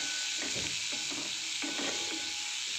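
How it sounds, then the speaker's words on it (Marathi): Chickpeas are stirred in a pan for chole masala, a soft, steady sizzle with repeated spoon scrapes and stirring strokes, fairly faint and without speech. "आपले छोले ॲड करून घेऊया आणि छान याला मिक्स करून घ्यायचे व्यवस्थित"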